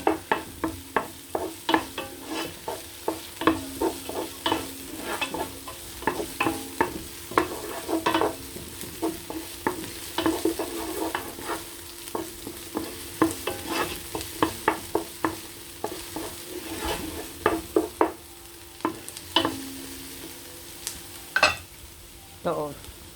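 Spring roll vegetables with onion, garlic, greens and carrots frying while being stirred in a pan, a continuous sizzle broken by rapid, repeated scraping and knocking of the spatula, close up with no talk.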